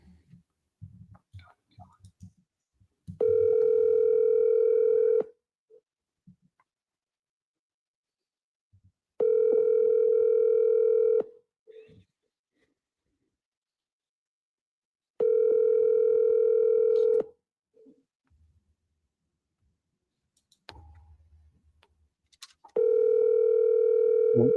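A telephone tone sounds during a live cold sales call. It plays as four long, steady, loud tones of about two seconds each, spaced about six seconds apart, with faint voices and clicks in the gaps.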